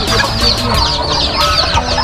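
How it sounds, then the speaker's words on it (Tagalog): Small bantam chickens on a farm clucking close by, a busy overlapping mix of short clucks and chatter from several birds that is loud and continuous, with no speech. "Ano po, mga bantam chicken."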